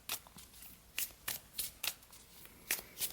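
Affirmation cards are shuffled in a quick run of crisp riffling snaps, about nine short bursts at an uneven rhythm, close and clear with no talk.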